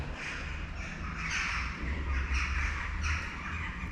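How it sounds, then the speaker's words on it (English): Birds nesting inside the old Blaenavon Ironworks buildings call repeatedly in an echoing space, harsh chirps and squawks rising above a low steady rumble, moderately distant. "I can hear them chirping away"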